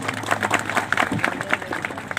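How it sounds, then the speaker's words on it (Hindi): Audience at an outdoor Birha stage show claps in a lively burst, a dense patter of hands mixed with crowd noise and faint voices. "जोरदार ताली से आप लोग सम्मान करें"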